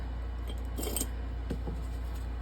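Scissors are handled amid crafting materials on a work table, giving a few faint metallic clinks and light rattles near one second and again shortly after against a quiet, humming background.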